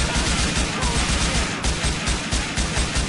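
AK rifle gunfire in Grand Theft Auto IV, a loud, dense rapid burst of shots with thumping low punch repeating continuously across the span, up close and without talk.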